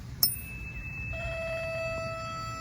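A sharp metallic strike sets off a clear, pure ringing tone from a tuning fork used to calibrate police speed radar, humming on steadily and faintly, a second pitch joining partway through.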